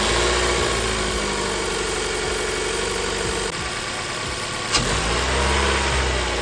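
Toyota Corolla Hatchback engine idling steadily on its stock air intake, a continuous mid-pitched hum with a brief dip and a small knock partway through, no voices.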